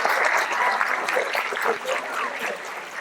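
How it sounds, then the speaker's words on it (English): An audience at a JROTC awards ceremony claps steadily for a few seconds, a dense patter of hands that stays fairly even throughout. "How about a round of applause for all these outstanding first-year cadets?"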